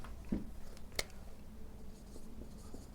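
A pen scratches across paper in short, quiet strokes, close by, while a maths teacher works through trigonometry, with one sharp tap near the middle and no speech.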